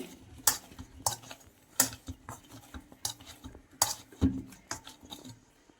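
A spoon stirs a soaked potato snack mixture in a bowl, making irregular clinks and scrapes against the dish with soft mushy shuffling between them, close and fairly quiet.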